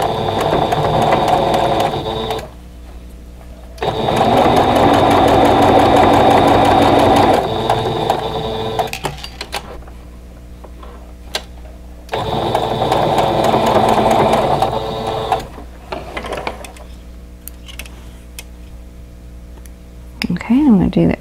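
A sewing machine stitches a quilt block in loud, close bursts of rapid mechanical whirring, several runs of a few seconds each separated by pauses with quieter handling noise.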